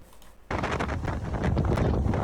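Strong wind buffets the microphone, starting abruptly and roaring in loud, gusty bursts.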